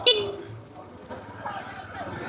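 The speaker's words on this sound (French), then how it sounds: "les petits coups de klaxon que je donne" A car horn gives a short toot while driving on a national road near Antsirabe in Madagascar, one brief beep at the start over steady road and engine noise.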